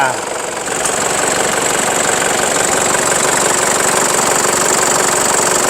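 Used diesel van engine idling nearby, a steady continuous mechanical drone with a faint ticking rhythm that holds even and loud throughout, no talk over it.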